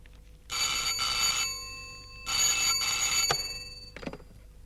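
A telephone bell rings in two long bursts separated by a pause, bright and insistent, followed by a short clatter at the end.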